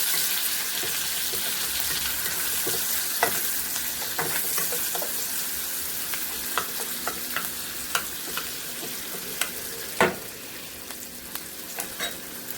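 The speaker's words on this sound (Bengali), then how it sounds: "এবার আমি পেঁয়াজ কুচি দিয়ে দেবো।" Chopped onion frying in oil that has been sweetened with sugar for colour, giving a steady close sizzle and occasional clicks of a spoon or spatula stirring the pan, with no talking.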